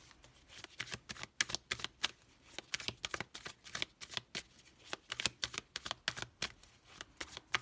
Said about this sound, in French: on va poser les 6 cartes